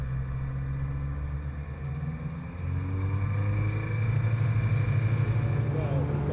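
A diesel engine on a Glasair Sportsman aircraft drones steadily at full throttle, its deep hum rising slightly in pitch and loudness as it runs.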